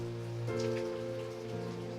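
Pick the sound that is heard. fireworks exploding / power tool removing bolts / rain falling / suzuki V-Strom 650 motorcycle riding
rain falling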